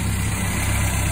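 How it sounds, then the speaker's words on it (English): An idling engine fitted with a new throttle cable runs steadily, a close, even low-pitched hum with no voices. "the engine sounds fine"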